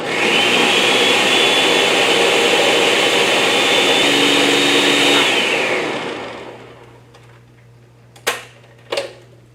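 A blender pureeing beans whirs loudly for about five seconds, then winds down to a low hum, followed by two sharp knocks against the jar.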